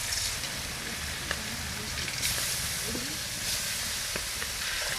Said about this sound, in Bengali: মাছগুলো আমি তেলের মধ্যে ছেড়ে দিচ্ছি।